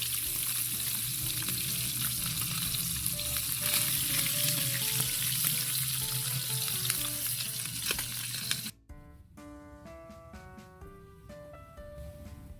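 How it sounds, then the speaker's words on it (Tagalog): Galunggong (round scad) fish frying in hot oil, a loud dense crackling sizzle that runs steadily for about nine seconds before cutting off abruptly, followed by quieter background sounds. "magpirito tayo ng galunggong"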